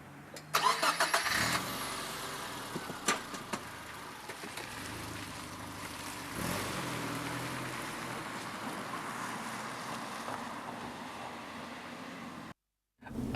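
A Subaru's heavily reworked 2.5-litre horizontally opposed flat-four boxer engine starts up, then settles into a steady, moderately loud idle and run under the car's bodywork, heard alone without talk.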